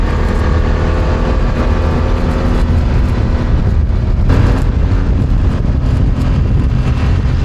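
BMW F900R motorcycle being ridden through corners, a constant loud engine roar mixed with rushing wind, steady with slight shifts in pitch.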